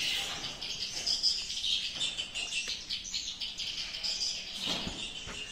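Swiftlet lure call played through speakers inside a swiftlet bird house, a faint, continuous high chirping and twittering with soft flutters, heard from a distance in an enclosed space.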